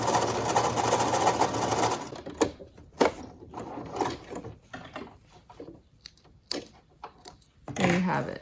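A sewing machine stitching ribbons onto a washable children's fabric face mask, running in a steady loud whir for about two seconds, then stopping and giving way to short clicks and handling sounds.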